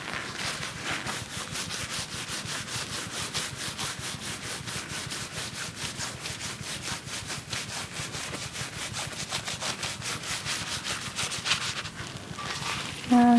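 Tooled leather is rubbed and burnished on a tumbler, giving a steady, fast scraping friction of repeated close strokes at moderate level, continuing unbroken for several seconds before a brief thump at the end.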